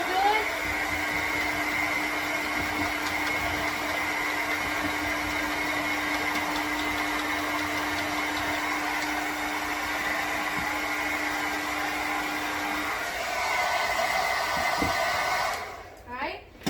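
A hair dryer drying paint on a wooden cutout blows with a steady, close, even whir that runs almost without a break, then cuts off near the end.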